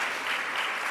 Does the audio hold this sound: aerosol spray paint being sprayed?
no